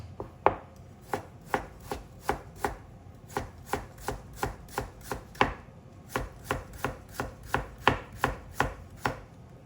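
Knife chopping two cucumbers on a cutting board for cold noodles with spicy peanut sauce, a steady run of about twenty crisp close chops with brief pauses, alone without talk.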